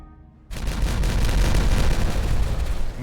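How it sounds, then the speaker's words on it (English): An explosion in the city-building game Timberborn cuts in suddenly after a half-second of near silence, then keeps going as a loud, heavy, rumbling blast with a crackling edge that lasts to the end. "you guys probably don't want to be standing here when I start this explosion"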